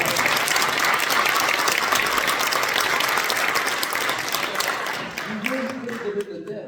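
A crowd at a Korean Christian education association gathering claps warmly for the outgoing and incoming chairmen, sustained loud applause that gradually thins and fades as a voice begins speaking near the end.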